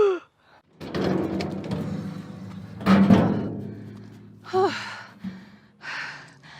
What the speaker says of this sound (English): I gasp.